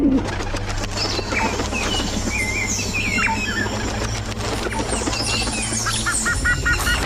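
Pigeon cooing and fluttering wings mixed with other bird calls and a steady low hum, with chirpy tones near the end.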